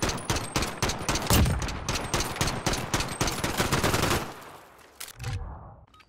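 P90 gunfire in a video game rattles out in a rapid, sustained automatic burst for about four seconds, loud and close, then cuts off with a few trailing shots and a fading tail.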